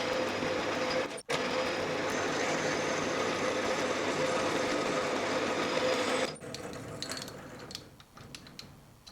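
A lathe runs steadily as a boring bar cuts the bore of a Quorn Mk3 tool grinder spindle body with cutting oil, a continuous whirring mechanical drone that drops off after about six seconds, leaving faint clicks and quieter machine noise.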